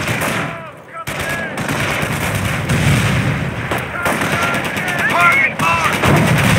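Gunfire from the PC strategy game Company of Heroes, set around Mortain, rattles in rapid overlapping bursts of rifle and machine-gun fire with distant explosions, continuous and loud throughout, while radio-style unit voices speak over it.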